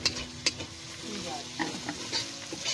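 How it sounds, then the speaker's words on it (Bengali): Tomatoes fry in a pan at an outdoor picnic by a pond in heavy rain, a steady soft sizzle broken by a few sharp scrapes and clanks of a spoon stirring against the pan. "এবার আমি টমেটো দিয়ে দিচ্ছি টমেটো দিয়ে একটু ভেজে নেব"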